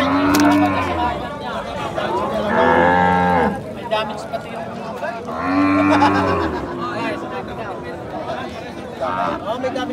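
Cattle at a livestock market mooing loudly and close, three long drawn-out lowing calls spaced a few seconds apart, with people chattering in the background.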